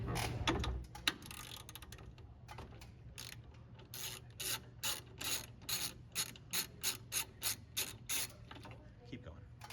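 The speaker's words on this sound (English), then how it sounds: "use the 8mm Allen wrench to fully loosen the 3 retaining bolts" An 8mm Allen wrench loosens the three retaining bolts on a Lufran circuit breaker lug, giving a steady run of evenly spaced clicking strokes up close. Rubbing handling noise comes first, with no talking.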